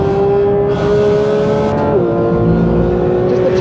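A Porsche 911 GT3 RS Manthey 992 driven hard on a track, its loud engine holding a steady high note before dropping pitch on a gear change and climbing again, close and continuous with no talk.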